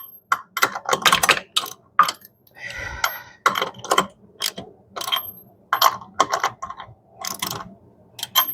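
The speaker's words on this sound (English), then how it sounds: "And then once it gets the full weight, then we tighten it up all the way." Car lug nuts tightened with a deep socket ratchet wrench during a DIY tire change, with quick bursts of sharp, close clicking in uneven runs and brief pauses, loud and without talk.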